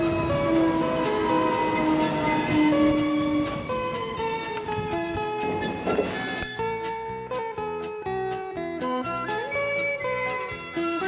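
A train pulls into a station platform bound for Oteramachi, its low rumble and clanking wheels building under a clear, tonal station announcement chime and a recorded voice, with rhythmic rail clicks growing distinct toward the end.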